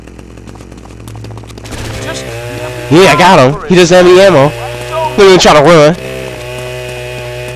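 A chainsaw's engine drones in the Manhunt video game, a steady low whine in the background while someone talks loudly over it.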